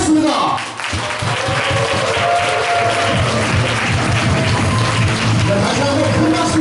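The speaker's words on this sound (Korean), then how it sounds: "다시 한번 큰 박수로 맞이해 주시기 부탁드리겠습니다." A seminar audience bursts into sustained, loud applause welcoming a doctor onto the stage, steady clapping filling the room with crowd noise throughout.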